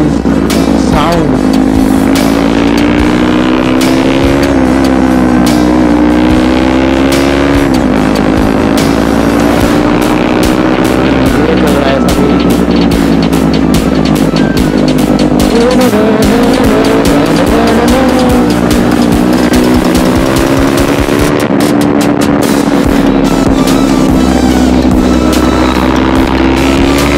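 KTM Duke motorcycle engine roaring loud and close while riding, its pitch rising and falling with repeated revs and gear changes throughout.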